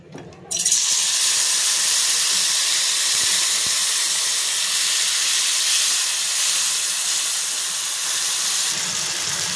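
A loud, continuous sizzle of tomatoes frying in hot oil starts abruptly and hisses steadily throughout.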